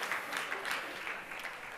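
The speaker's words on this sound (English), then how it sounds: "Those of you clapping, you guys are losers too" An audience at a fitness business seminar claps in a moderate, uneven burst of applause that holds steady for a couple of seconds.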